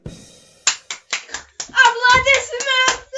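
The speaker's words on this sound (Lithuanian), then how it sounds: "Aplodismentai!" A handful of hand claps ring out in separate bursts, then a voice speaks over further claps, close by and fairly loud.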